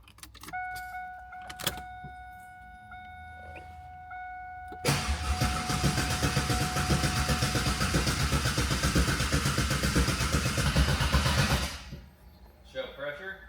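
A 2000 Camaro SS with an LS1 V8 cranks without starting while its new oil pump is primed: a few dashboard chimes and clicks, then several seconds of loud, steady, rhythmic starter cranking that stops abruptly.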